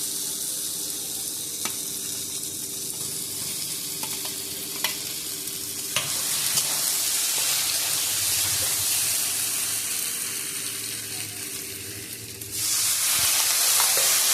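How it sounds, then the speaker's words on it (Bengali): Potato and cauliflower pieces sautéing with turmeric in a pan for a rohu fish curry, a steady sizzle with repeated stirring scrapes throughout, growing louder and brighter near the end as spiced water is added. "এবার আলু আর ফুলকপিগুলো দিয়ে ভালো করে একটু কষিয়ে নেব"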